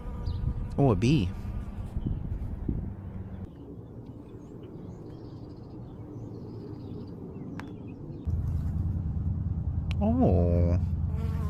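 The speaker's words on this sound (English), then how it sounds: "Oh, a bee." A bee buzzes nearby with a continuous droning hum that rises and wavers as it moves, loud at first and again near the end, while people talk over it.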